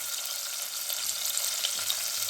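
Onion, tomato, mint, ginger and garlic sauté in hot oil for a vegetable saagu, giving a steady, loud, even sizzle throughout with faint stirring underneath.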